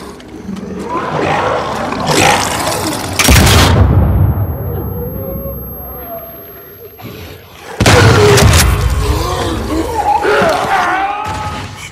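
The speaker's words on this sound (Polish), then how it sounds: "Siła wybuchu była spora." Explosions and combat blasts in the video game The Last of Us Part II, with two loud, booming bursts separated by a quieter stretch of rumbling game ambience.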